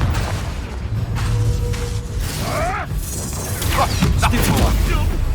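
A Confringo blasting spell detonates in the video game Hogwarts Legacy, booming over a busy mix of combat whooshes, crashes and mechanical clatter that runs loud and continuous throughout.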